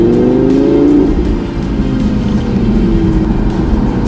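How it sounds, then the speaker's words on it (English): Audi R8 Spider engine and gearbox pulling hard, a loud, close, sustained roar with rising harmonics and a brief dip around a gear change, no voices over it. "Can't get enough of this engine and gearbox."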